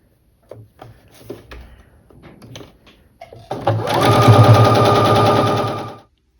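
Sewing machine stitching quilt block rows together at a quarter-inch seam, a fast rattling run near the mic following a few soft handling noises, stopping abruptly near the end.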